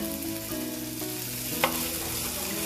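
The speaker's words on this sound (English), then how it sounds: "you are going to throw in your garlic. Throw it all in there." Garlic frying in a hot pan, a steady close sizzle and crackle with a brief stir or clink partway through, no talking.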